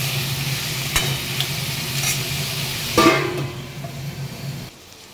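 Food sizzles steadily in a pan while lentils are fried on a home stove, a continuous soft hiss with a few sharp clinks from stirring utensils before the sound drops away near the end.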